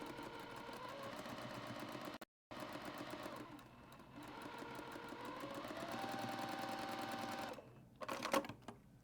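A sewing machine stitches quilt block pieces at a quarter-inch seam, its steady mechanical hum running nearly the whole time, dropping out once briefly, followed by a few sharp clicks at the end.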